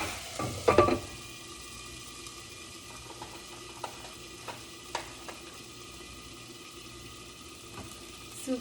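A pan of chicken broth gives off a soft steady sizzle after a brief splash and stir, with occasional faint clicks and bubbling.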